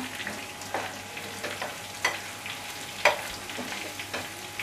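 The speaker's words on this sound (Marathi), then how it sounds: "कढीपत्त्याची पानं घालूया, सुकी मिरची। आता हे चांगलं परतून घेऊया।" Curry leaves and dried red chillies fry in hot oil while being stirred, giving a continuous sizzle broken by several scraping strokes and sharp crackling pops, close and moderately loud.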